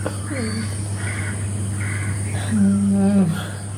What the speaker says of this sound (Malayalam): രാവിലെ പക്ഷികളുടെ ആരവമൊക്കെ ഉണ്ട് കാക്ക കരയുന്നു